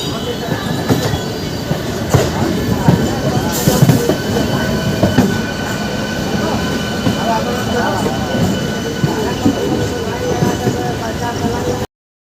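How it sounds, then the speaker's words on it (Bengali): The Vibhuti Superfast Express, an LHB train running from Howrah toward Prayagraj Rambagh, rumbles steadily with rattling carriages, clicking wheels on the rails and occasional squeals, heard from inside, with a voice talking now and then. "ফাইনালি আমাদের ট্রেন পাড়ি দিয়ে দিল হাওড়া থেকে প্রয়াগরাজ রামবাগের পথে বিভূতি সুপার ফাস্ট এক্সপ্রেস"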